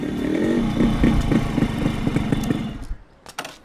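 A motorcycle engine runs in a dubbed South Indian action movie scene. A steady, throaty drone holds for nearly three seconds, then drops away abruptly, leaving faint clatter.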